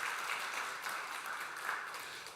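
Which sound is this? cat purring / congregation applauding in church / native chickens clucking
congregation applauding in church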